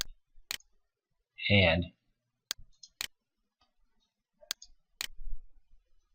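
Computer mouse clicks in CAM software come as a few sharp, isolated ticks spread across the stretch, with a brief spoken word between them in a quiet room.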